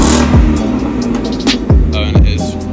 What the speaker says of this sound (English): Hey, rev it up a little bit